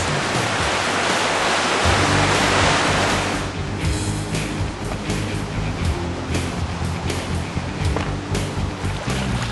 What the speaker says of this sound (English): It is a tributary of the San Gabriel River, and it looks like it looks fairly treacherous.